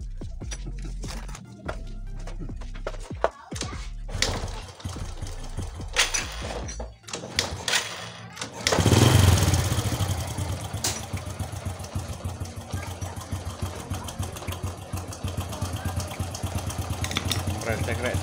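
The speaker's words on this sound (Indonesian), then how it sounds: "Kita hidupkan motornya pakai selah kaki." Motorcycle kick-started during a battery charging system check: a few scraping kick strokes and knocks, then the engine catches into a loud, steady idle that continues to the end, with voices talking over it.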